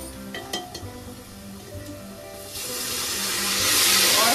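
Turmeric and whole spices frying in a pan for a mutton paya dish: a few light clinks and stirring at first, then a steady hiss and sizzle that swells louder toward the end.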